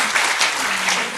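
An audience at a welfare policy talk concert applauds in a dense, continuous wash of many hands, loud and steady throughout with no separate voices.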